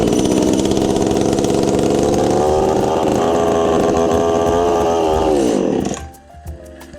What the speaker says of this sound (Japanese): エンジンかかるんですけど途中で止まっちゃうということで